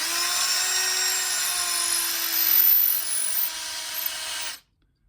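A power drill with a large bit boring through walnut wood for a cigar box guitar build, a high steady whine with a faint pitch sag as it bites, then stopping abruptly into silence.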